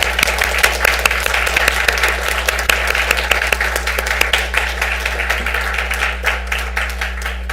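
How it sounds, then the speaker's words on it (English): Steady applause at a school governing board meeting for a state champion high school marching band, the clapping dense and close throughout, with a constant low electrical hum underneath. "Time for an applause."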